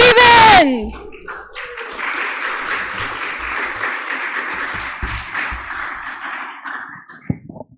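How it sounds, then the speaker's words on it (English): An audience at a church farewell comedy evening applauds Lóre Stevens, steady sustained clapping that swells after a loud opening voice and fades out near the end. "keep the applause going for Lóre Stevens."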